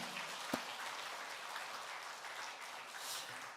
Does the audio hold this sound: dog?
no